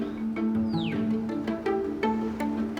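A cat gives a single meow with a falling pitch at a vet clinic, set among a steady low hum and background clatter.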